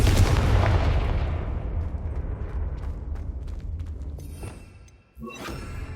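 An explosive spell blast in the Hogwarts Legacy video game erupts with a loud, deep boom that rumbles and slowly decays, followed by a sharp crackling burst near the end, with no voices.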